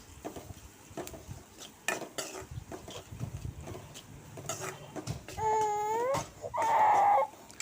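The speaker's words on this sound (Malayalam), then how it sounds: "മഞ്ഞൾപ്പൊടി ഇട്ട് കൊടുക്കാം ഇതിൻ്റെ കൂടെ തന്നെ ലേശം ഉപ്പും കൂടി ഇട്ട് കൊടുക്കാം നന്നായിട്ട് ഇളക്കി കൊടുക്കാം" Prawn and spinach thoran with turmeric and salt being stirred in a pan: soft, irregular scraping and clattering of a spoon, fairly quiet, followed near the end by a couple of sustained whining, cry-like tones.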